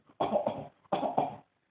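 Two harsh coughing fits in quick succession from a nearby woman, each a short cluster of barking coughs, with silence around them.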